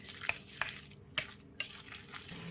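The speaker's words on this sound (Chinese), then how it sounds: "再次用筷子充分的给它搅拌均匀" Chopsticks stir pork and cabbage dumpling filling in a bowl, making four soft rhythmic taps and wet squelching strokes, up close and fairly quiet.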